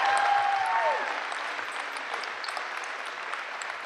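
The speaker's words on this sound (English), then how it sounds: "Let's give a round of applause to the students." Steady applause from an audience for students at a school press conference, a moderate, even wash of clapping throughout, with a brief voice at the start.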